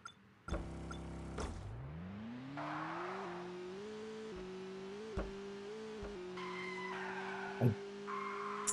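The engine of an old-school taxi cab in the mobile game Skiddy Car by Kwalee revs up steadily, its pitch climbing through gear changes, with bursts of tire skidding and squeals along the way.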